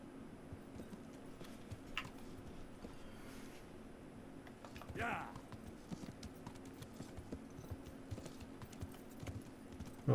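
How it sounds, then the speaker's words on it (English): Horse galloping in the video game Kingdom Come: Deliverance, a quick steady clip-clop of hooves running continuously, moderately close, with a few faint ticks in the background. "This horse is relatively quick. Goes like the clappers."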